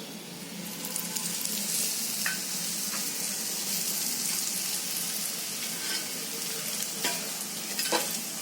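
A fenugreek paratha fries on a pan in ghee or oil, a steady bright sizzle running throughout with occasional scrapes and clinks from a turner, close and even in level.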